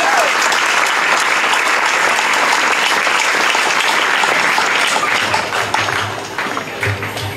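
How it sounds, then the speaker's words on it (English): An audience applauds at a school farewell program, sustained loud clapping that thins toward the end with some low rumble. "please give another round of applause"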